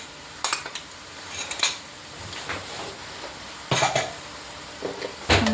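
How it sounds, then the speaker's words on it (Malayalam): Ground coriander leaf, green chilli, ginger and garlic paste is stirred into onions in a pan, giving sporadic metal scrapes and knocks of a spoon against the pan, with a few louder clanks. "നന്നായിട്ട് ഇളക്കി കൊടുക്കണം"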